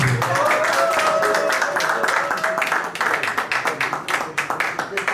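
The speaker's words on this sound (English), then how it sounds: "Applaudissez très fort pour lui" Wedding guests at a Cameroonian court wedding break into brisk, dense clapping midway, building under a loud voice and crowd chatter before taking over.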